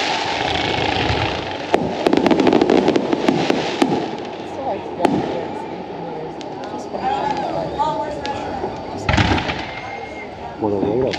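Fireworks at a 4th of July show in Russellville, Arkansas: repeated sharp bangs and crackling bursts, some close and loud, others more distant, with people talking throughout.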